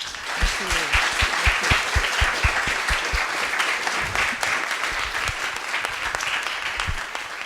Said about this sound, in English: please join me in a round of applause for Christine Lowe.